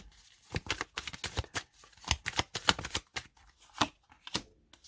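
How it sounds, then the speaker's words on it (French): Tarot cards are handled and turned over in quick succession, a run of crisp papery slaps and flicks, close and fairly quiet, with brief pauses between bursts. "On va recouvrir quelques cartes."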